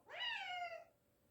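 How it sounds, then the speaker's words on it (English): A house cat lets out a single clear meow, a short rising then falling cry, near but quiet in an otherwise still room. "That was my cat."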